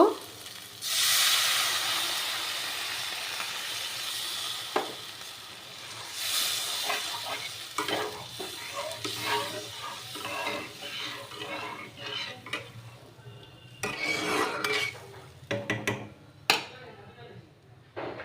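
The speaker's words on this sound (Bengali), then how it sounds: "এবার আমি জল দিয়ে দেব" Water splashes into a pan of frying banana stem, setting off a loud hissing sizzle that fades into steady crackling, scraping stirs and utensil clinks under occasional talk.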